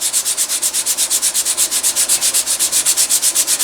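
Leather is hand sanded lightly with 320 grit sandpaper: a close, loud rhythmic rasp of quick back-and-forth strokes, about six per second, continuing evenly throughout with no voices.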